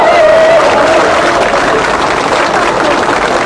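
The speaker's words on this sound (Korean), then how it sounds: "여러분 큰 박수 날려주시기 바랍니다." Dense, loud applause from a political rally crowd at a Democratic United Party campaign event, greeting an arriving guest professor; a steady wall of clapping that carries evenly through the whole stretch with a voice faintly over it.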